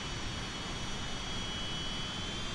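A Fouga CM-170 Magister jet in Microsoft Flight Simulator holds a steady, loud turbine roar with a thin high whine running continuously on top and no voices.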